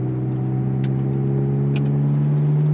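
A Ferrari F430 V8 idles and creeps along at low revs during a slow U-turn, a steady, close, even engine drone with faint background noise.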